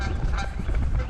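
Duck honking near a crowded churchyard, a loud nasal burst of repeated honks close by, filling the short moment.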